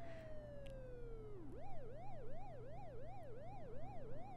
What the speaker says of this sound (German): Ah, ein Krankenwagen, glaube ich, kommt. Oder die Polizei.